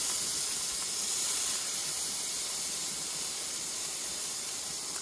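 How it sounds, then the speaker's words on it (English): A steady, loud aerosol bug spray hisses continuously, a broad airy spray with no pauses. "I can't do this week without bug spray."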